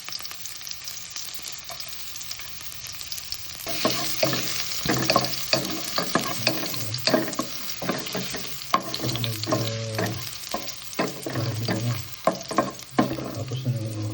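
Garlic, onion and ginger sautéed in oil for native chicken tinola, a quiet hiss that jumps to loud crackling sizzle around the fourth second, with spatula strokes and scrapes continuing close up, no speech.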